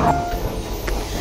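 A train at a railway station gives a loud, steady low rumble with faint metallic tones over it, heard close and without talk.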